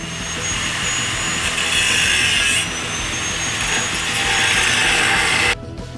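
Battery-powered cutting tool slicing wheels off a metal beam in a hot shop, a steady loud grinding whine running continuously for several seconds before cutting off abruptly near the end.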